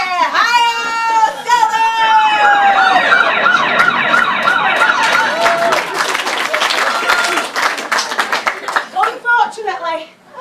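A police car siren wails in sweeping, rising and falling tones for several seconds, loud and close, then gives way to a burst of sharp clapping-like cracks that trail off unevenly.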